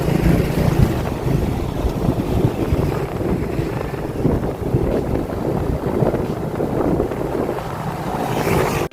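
A motorized outrigger boat motor drones steadily nearby, mixed with rushing wind buffeting the microphone, continuous throughout with no pauses.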